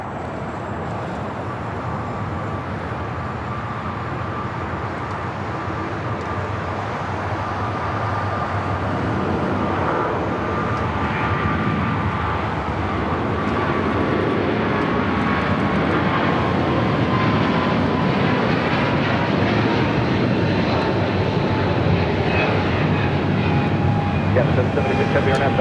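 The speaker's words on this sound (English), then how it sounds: "we got the flight heading to Honolulu. Rolling it down" An airliner bound for Honolulu takes off from runway 25 right at Los Angeles International Airport, its jet roar rising gradually and holding loud and steady, with faint voices at times underneath.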